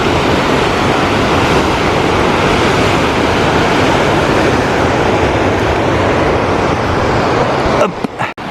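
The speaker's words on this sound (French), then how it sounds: "t'as une super cascade là" A mountain waterfall in the Cirque d'Estaubé roars loudly and steadily, a dense broadband rush that continues unbroken before some handling knocks at the very end.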